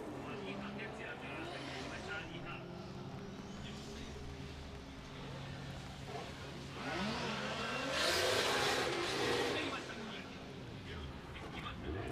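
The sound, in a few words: drift car practice run at Ebisu, Formula Drift Japan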